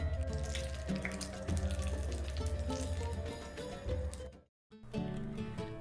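Running tap water splashing into a kitchen sink, a steady close rush that breaks off briefly near the end before starting again.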